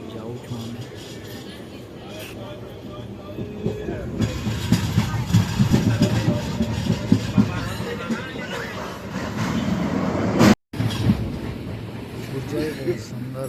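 A passenger train rolls along toward Sambalpur Junction with a continuous rumble and rhythmic rattling, while a person talks over it.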